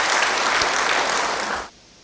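A church congregation applauds loudly and steadily for under two seconds before the clapping cuts off abruptly into quiet room tone.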